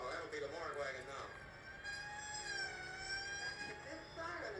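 An approaching morgue wagon's siren wails with rising and falling tones, heard faintly amid a film soundtrack, with voices talking over parts of it.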